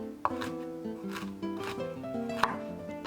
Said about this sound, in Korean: 고추씨 제거하고 반으로 잘라 채 썰어주세요.